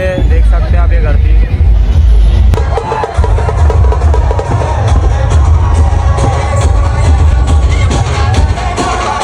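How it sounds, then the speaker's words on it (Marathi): A crowd gathered around a dhol tasha troupe at a Navratri devi procession in Yavatmal makes a loud, continuous babble of many voices, with traffic rumble and occasional bangs mixed into the dense street noise. "ये देखो इतना क्राउड हमारे लिए जमा हो चुका है"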